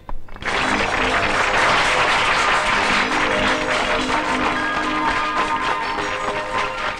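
A crowd applauds the best students at a school prize ceremony, with dense, sustained clapping that starts abruptly and holds at an even, loud level for several seconds.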